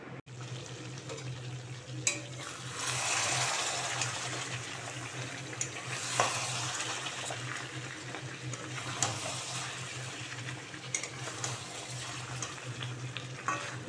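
Marinated goat meat and potatoes sauté in a pan with a steady, close hiss and sizzle, broken by a few scraping stirs.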